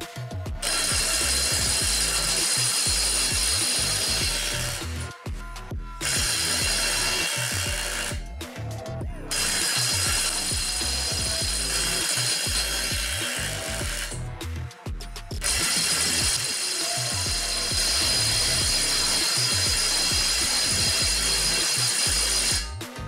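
Makita GDT01 impact driver, 40-volt class with a 4 amp hour battery, hammering loudly through a torque test in three long continuous bursts separated by brief pauses.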